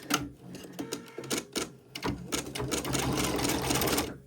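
An embroidery machine stitches freestanding lace in Sulky thread with a rapid mechanical chatter of needle strokes, uneven at first and then settling into a dense, continuous run close by.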